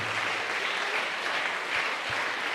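Church congregation applauding during a sermon, a full, continuous wash of clapping from many hands that holds steady and fairly loud for the whole stretch, with a couple of low thumps underneath.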